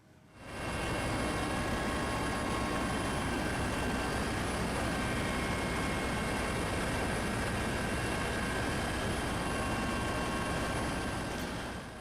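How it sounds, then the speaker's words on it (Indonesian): A Basarnas search and rescue helicopter flying over the sea of the Bali Strait gives a steady, loud engine and rotor drone that rises within the first second and holds unchanged to the end, with no talking. "helikopter Basarnas menyisir perairan Selat Bali"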